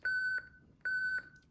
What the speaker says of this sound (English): I don't know why it's beeping at me